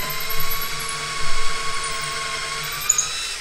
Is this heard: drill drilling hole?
yes